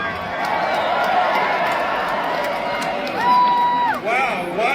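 At a political rally in Edmonton, Canada, a large crowd cheers and roars continuously, with whistles rising near the end, loud and sustained.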